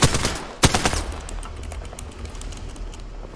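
Gunfire in Apex Legends on Kings Canyon: a sharp loud shot at the start and another crack shortly after, followed by a rapid ragged burst of further shots fading into a softer rattle.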